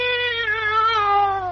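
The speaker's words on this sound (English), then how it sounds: "maybe my cat can hide out here for the day" A cat meows once in a long, drawn-out, slightly descending call, a sound effect from a 1954 radio comedy, close and clear with no talking over it.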